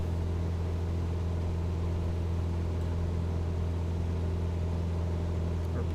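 A Cessna 172 engine at high RPM in Microsoft Flight Simulator 2020 drones as a steady, low, even hum with no change in pitch, heard alone throughout.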